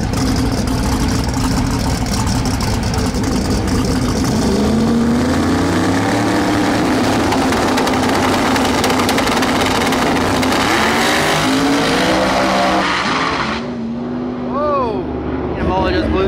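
A drag-racing car roars loudly and steadily on the strip, its engine note climbing in pitch as it launches and pulls away, then dropping off near the end, with a voice talking under the noise.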